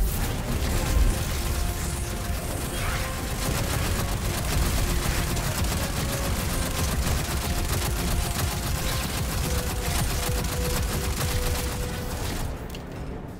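Sustained heavy gunfire in Destiny 2 during a Mars Heist Battleground Grandmaster Nightfall, with dense rapid shots and bursts that continue loud and unbroken for over twelve seconds before cutting off.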